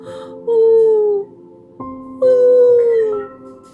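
A human voice imitates an injured wolf's groan in two long, loud, wavering moans with a falling pitch, close and clear, separated by a brief pause.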